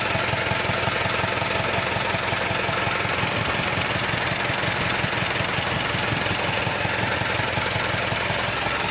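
An Isuzu 4BA1 diesel engine from an Eagle, freshly overhauled, runs steadily at idle with a dense, continuous knocking clatter, loud and close, with no voices over it.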